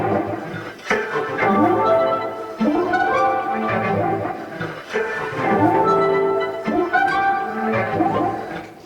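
A sample played through a Torso S-4 sampler with envelope-follower-modulated effects swells and sweeps in repeating tonal phrases with shifting, wobbling harmonics, loud and continuous with no talk.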